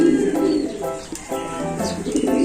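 Soft, repeated racing pigeon coos in a steady rolling rhythm, close by, with faint chirps in the background.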